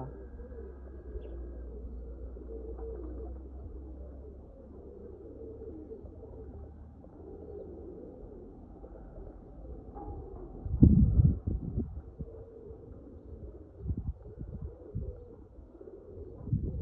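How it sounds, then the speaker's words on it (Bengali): Fakirgul pigeons, a male and a female, coo softly against a quiet background, with a louder flutter or knock around the middle. "খুবই সুন্দর একটা কবুতর, মেল ফিমেল দুইটাই"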